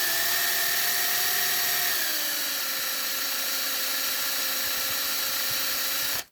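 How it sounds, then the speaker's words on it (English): Power drill boring into the old die-cast metal of a Matchbox refuse truck model, a steady high whine that drops in pitch as the bit bites, running continuously close up before stopping abruptly. "they used a softer alloy because the early stuff was a lot difficult to drill"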